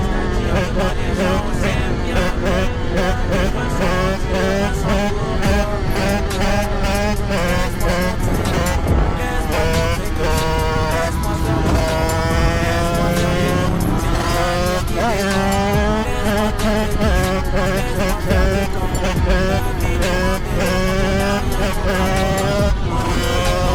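Yamaha MT07 motorcycle ridden hard, its engine revving loud and close with rising and falling pitch sweeps through gear changes, continuous for the whole stretch without talk.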